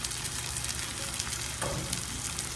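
Corn kernels hitting a hot skillet, a dense close sizzle holding steady throughout with small pops and a brief stirring scrape.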